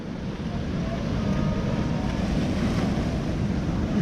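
Rough sea waves wash and slap around a small fishing boat at sea, a steady roar mixed with heavy wind noise on the microphone.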